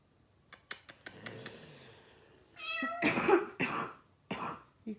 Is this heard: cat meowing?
yes